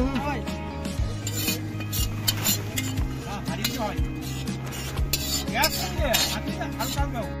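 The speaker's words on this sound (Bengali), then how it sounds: "আমাদের হান্ডি চিকেন শুরু হয়ে গেছে" Handi chicken cooks in a pot at a rainy-day picnic near Digha, with repeated scraping and stirring of a metal utensil against the pot. The knocks come in a rough rhythm, and faint background chatter runs underneath.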